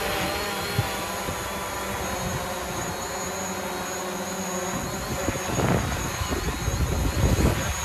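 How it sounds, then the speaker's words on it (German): A flying drone gives off a steady high-pitched whine that holds throughout, with wind buffeting the microphone and some rustling handling noise toward the end. "Die Drohne sieht mich, ich sehe die Drohne."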